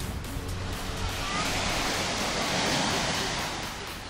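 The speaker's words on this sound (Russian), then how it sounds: "С волнами небольшими, красиво." Small sea waves wash onto a beach at a resort in Turkey, a steady close rush of surf and foam, rising and falling gently with no talk.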